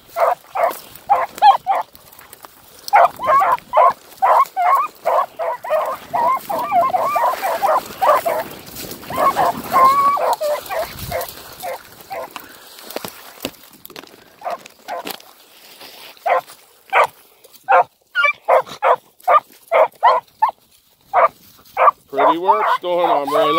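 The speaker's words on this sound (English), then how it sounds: "Liking this puppy." A young hunting dog puppy barking in rapid repeated bursts with whining, yelping notes between them, outdoors among sticks and brush, fairly close, pausing for a stretch midway, with someone speaking occasionally.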